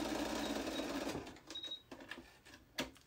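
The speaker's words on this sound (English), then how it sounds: "Next, we're going to do some stitches down both sides, just to make the actual pocket itself." A sewing machine stitches the sides of a fabric shopping bag pocket in a quick, close whirring burst of about a second, followed by quiet handling clicks and a small clack.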